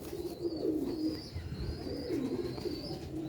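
Pigeons coo in low, throaty, repeated phrases that run continuously and close by, with no voices.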